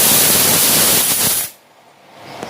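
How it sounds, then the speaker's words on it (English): A pressure cooker whistle: loud hissing steam jets out for a second and a half, then stops suddenly, leaving faint background noise. "that's the second whistle"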